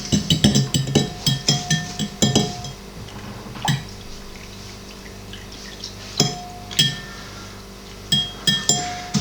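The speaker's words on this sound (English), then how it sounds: "she's going to stir it together to get rid of any lumps" A spoon or utensil clinks against a bowl while white loaf bread dough is mixed, giving sharp irregular taps and scrapes, close by and fairly quiet, with no voices.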